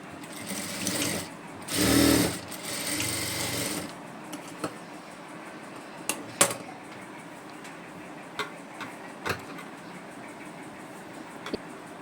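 Sewing machine with a normal presser foot stitches invisible piping on a blouse back neck: one short burst of whirring stitching, followed by scattered quiet ticks and clicks of handling.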